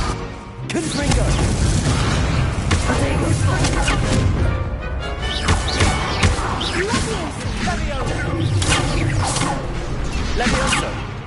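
Confringo blasting spell explosions in Hogwarts Legacy, loud crashing booms and whooshes layered densely with impacts and clatter throughout the battle, a few sharp bursts standing out, with voices shouting under the chaos.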